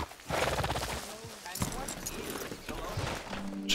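Hooves from a horse in Red Dead Redemption 2 thud along in a quick, uneven clip-clop at close range, mixed with a busy game soundscape and a faint whinny-like tone near the end.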